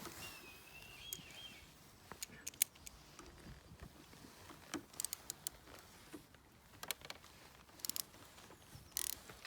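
A 10mm bolt is undone from under the brake lever of a Honda CB1000R motorcycle, giving faint ratchet clicks and small metallic ticks against a quiet background.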